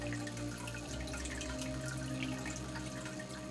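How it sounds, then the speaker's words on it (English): Water trickling from a small pump running down a terrarium wall, a soft continuous babble with faint drips over a low steady pump hum, close and quiet, no voices. "And I'm gonna stop the pump"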